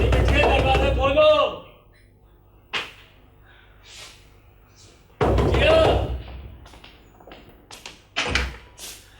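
Someone knocks on a door, producing a few sharp thuds spaced apart inside a house, with voices speaking between them.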